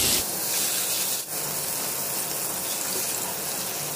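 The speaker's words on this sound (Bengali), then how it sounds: "আমি একটু হালকা করে এটাকে ফ্রাই করে নিচ্ছি।" Cubes of paneer fry lightly in hot oil in a pan for palak paneer, making a steady, close, hissing sizzle that continues without a break.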